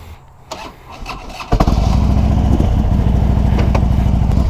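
A Harley-Davidson Ultra Classic motorcycle cranks with a starter whir, then fires up loud and close into a deep, lumpy, rhythmic idle that continues steadily to the end.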